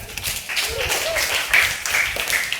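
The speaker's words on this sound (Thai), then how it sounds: "ทุกคนปรบมือให้เพื่อนๆเลยครับ" Group of people applauding classmates at a Thai orchid-returning nature conservation gathering, a burst of clapping mixed with cheerful voices and chatter throughout.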